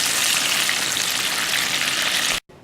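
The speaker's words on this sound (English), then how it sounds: "A little shake. And into the fryer." Loud, steady bubbling and sizzling of chicken strips deep frying in oil, close up, continuous until it cuts off suddenly near the end.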